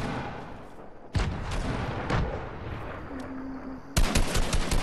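Heavy tactical shotgun blasts in a Fortnite squads match, a few loud booming shots with sharp onsets spaced apart over a constant game noise bed, including a final burst of rapid cracks.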